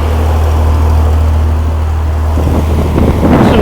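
A freshly built 80 horsepower Rampy engine, assembled mostly from used parts, runs on its very first start with a steady low droning rumble, loud and close, with rustling noise building near the end.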